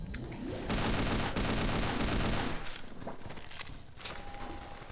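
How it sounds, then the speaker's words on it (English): Automatic machine gun fire in the Half-Life 2 mod SMOD, a loud, dense burst of rapid shots that holds for about two seconds, then thins into scattered shots, rumble and game noise. "Let's be worried about the machine gun fire"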